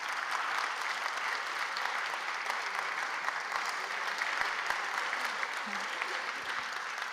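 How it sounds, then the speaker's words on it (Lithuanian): A crowd applauds at an innovative teachers' awards ceremony, sustained even clapping from many hands filling the room for several seconds, with faint voices murmuring beneath. "Tai tokie aplodismentai."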